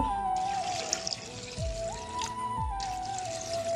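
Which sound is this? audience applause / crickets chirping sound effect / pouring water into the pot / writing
pouring water into the pot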